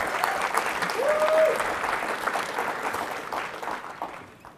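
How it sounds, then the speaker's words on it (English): An audience gives a round of applause welcoming Dr. Kari Cotwright to a school fireside chat, moderate clapping that swells in the first seconds and then gradually thins and fades. "Please give a round of applause and help me welcome Dr."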